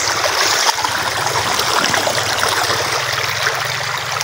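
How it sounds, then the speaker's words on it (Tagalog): A river in the Philippines flowing steadily, a loud continuous rush and trickle of water heard up close throughout. "Tatawid tayo dito sa ilog."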